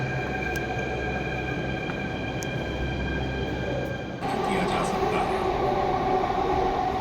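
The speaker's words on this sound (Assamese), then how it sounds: "আৰু ট্ৰেইনখন এতিয়া গৈ আছে" A Delhi Metro train runs along the track, heard from inside the carriage. A steady, loud rumble and whine with thin high tones continues throughout, and the pitch and intensity shift partway through as the train rolls on.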